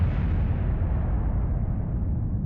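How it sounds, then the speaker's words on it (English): A rocket explodes in Kerbal Space Program with a steady, heavy rumbling roar that holds loud and dense throughout, its low end dominant and the top slowly dulling, with no voices over it. "Don't mind the explosion."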